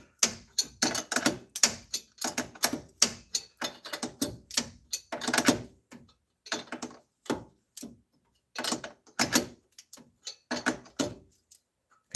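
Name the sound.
ratchet wrench turning a bolt on a Chevy Astro engine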